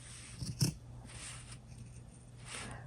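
Scissors snip away excess fabric beside a sewn zipper on a handmade fabric bag, a couple of quick close cuts early on, then quiet room tone.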